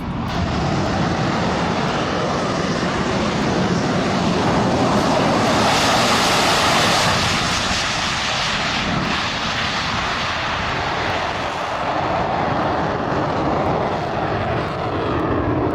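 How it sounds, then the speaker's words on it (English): An aircraft makes a jet-assisted takeoff boosted by small rockets, a loud, unbroken engine roar with a broad rushing hiss that swells near the middle and stays strong to the end, no speech. "This plane doing a jet-assisted takeoff, which is using small rockets."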